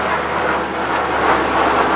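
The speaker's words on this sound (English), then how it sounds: "hello plane!" An airplane passes overhead, a loud, steady broadband roar of engine and air noise that holds for the whole stretch without breaks.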